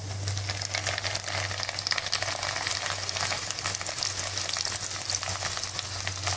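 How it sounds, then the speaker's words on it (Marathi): Flour-dusted oyster mushrooms frying in hot oil, a steady, close crackling sizzle with a constant low hum underneath. "ऑयस्टर मशरूम आहे हे अशा प्रकारे नुसते घोळवून घेणार आहे आणि एक एक करून मी तेलामध्ये सोडणार आहे"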